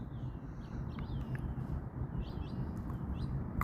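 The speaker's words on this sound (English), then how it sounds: "Squirrels. We got little finches." Small finches chirp in brief, faint, scattered tweets over a constant outdoor background hum.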